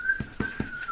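A person whistles a steady, thin, off-key tone while imitating a guard, with soft rhythmic thumps beneath it, close and alone with no talk.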